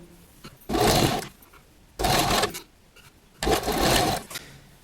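A sewing machine stitches a party-wear girl's gown in three separate bursts of running, each about half a second to a second long, with quiet pauses between them.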